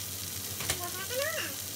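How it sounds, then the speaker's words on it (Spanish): Pork ribs fry in a pan with a soft, steady sizzle, faint and close, while a few brief squeaky scraping sounds rise over it. "aquí ya se está como friendo lo que es la carne de cerdo, costilla de cerdo"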